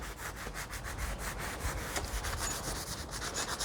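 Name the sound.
sanding wood with sandpaper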